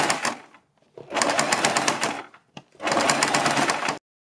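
Two loud, close runs of a sewing machine stitching the neckline of a kurti, a short one followed by longer bursts of rapid stitching, broken by brief silent pauses.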